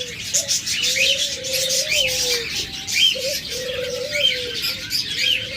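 Pet birds for sale, lovebirds, cockatiels and budgerigars, chirp and trill in a busy overlapping chorus with repeated soft cooing calls running under the brighter tweets.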